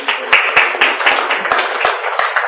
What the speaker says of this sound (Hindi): मुझे लगता है एक बार तालियां होनी चाहिए इस बात पर।